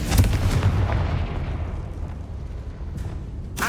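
A Confringo blasting spell explodes in the video game Hogwarts Legacy, giving a loud booming blast with a rumbling low-end tail. A second burst follows near the end.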